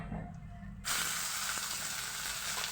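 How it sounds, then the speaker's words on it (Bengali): Dried red chilies and nigella seeds hit hot oil, bursting into a sudden loud sizzle after a quiet moment and then hissing steadily up close. "এক চামচ মতো শুকনো লঙ্কাটা কালো জিরেটা একটু ভেজে নেব"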